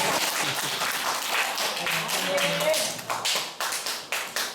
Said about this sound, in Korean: 박수를 치려면 확실히 쳐주세요.